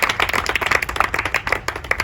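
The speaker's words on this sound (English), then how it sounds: "So give them a round of applause," An audience claps at an outdoor ribbon-cutting ceremony for a Prospect Park disc golf course: a brief, dense patter of many hands, fairly close and steady for about two seconds.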